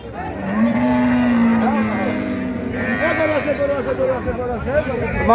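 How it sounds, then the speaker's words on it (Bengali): At a busy cattle market a large cow gives one long, loud, low moo close by, while people talk throughout and other livestock and crowd noise carry on behind. "এটাই সবচেয়ে বড় গাভী"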